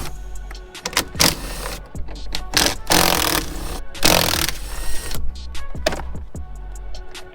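A power tool zips 10mm bolts off a side mirror on a Ram truck, several short whirring bursts of varying length with pauses between, close and fairly loud, with a faint word spoken.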